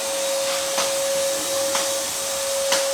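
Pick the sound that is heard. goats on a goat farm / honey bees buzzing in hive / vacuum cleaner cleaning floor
vacuum cleaner cleaning floor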